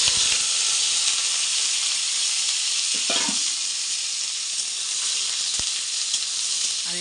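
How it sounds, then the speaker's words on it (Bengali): Chillies and tomatoes frying in hot oil give off a loud, continuous hiss and sizzle, broken by a few brief clatters of utensils. "চলো এগুলো ভেজে নিই।"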